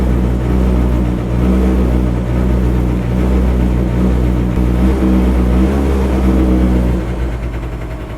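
A carburetor scooter's small engine runs continuously and fairly loud, with revving swells early on before it settles toward a steadier idle near the end, with no talking.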